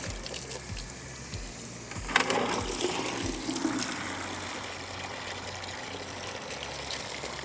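Water drains steadily from an RV water heater tank, a constant hissing trickle and pour with no pause, with a few low knocks near the start.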